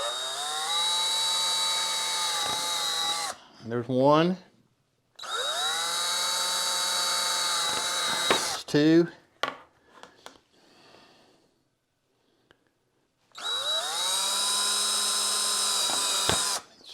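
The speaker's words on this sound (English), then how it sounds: "And I got my drill right here." A power drill fitted with a bit bores holes for a truck phone mount, in three loud sustained whirring bursts of several seconds each, with someone speaking briefly in the gaps between them.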